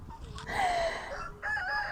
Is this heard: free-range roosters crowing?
yes